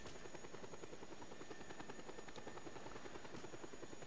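Helicopter in the video game Just Cause 2 flying steadily with a continuous rotor chop and engine whine at moderate level, no talking.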